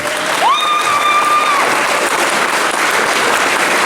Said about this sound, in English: you all need to give Big Ian a big round of applause